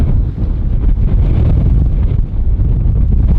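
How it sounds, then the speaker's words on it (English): Strong wind roars across the summit of Hallasan, a loud, continuous buffeting rumble that batters the microphone with no pauses throughout. "너무 바람 많이 불어요 진짜."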